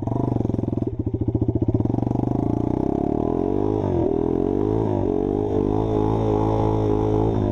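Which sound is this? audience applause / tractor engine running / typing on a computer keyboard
tractor engine running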